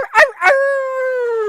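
A human voice imitates a dying dog, two short yelping bursts and then a long, sustained, slowly falling howl, loud and close.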